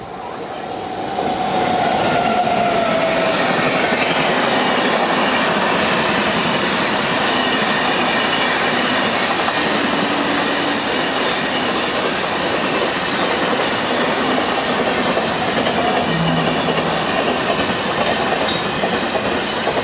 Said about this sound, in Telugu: హజరత్ నిజాముద్దీన్ చెన్నై రాజధాని ఎక్స్ప్రెస్. చెన్నై రాజధాని ఎక్స్ప్రెస్ ఓవర్టేక్ చేసేసింది.